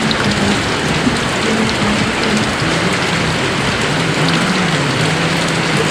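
Heavy rain pours steadily and loud over open rice fields in rural Thailand, a dense constant wash with no voices in the foreground.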